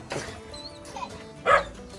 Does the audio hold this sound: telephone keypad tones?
no